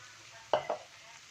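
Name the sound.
water added to frying chili, shallot and garlic spice paste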